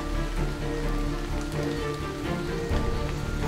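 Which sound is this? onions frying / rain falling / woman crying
rain falling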